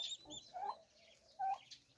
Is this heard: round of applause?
no